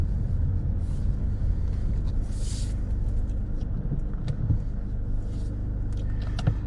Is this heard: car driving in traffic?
yes